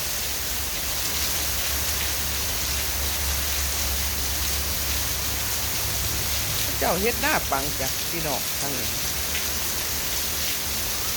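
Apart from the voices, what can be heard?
rain falling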